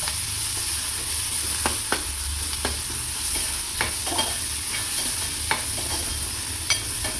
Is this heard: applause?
no